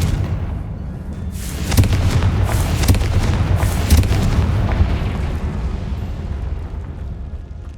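A Confringo blasting spell detonates in Hogwarts Legacy, a heavy booming explosion with rumbling bursts that roll on and slowly fade, loud and close with no talk.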